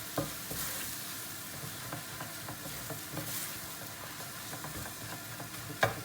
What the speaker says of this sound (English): We're just cooking our spices out a wee bit, just to get the aroma from the spices added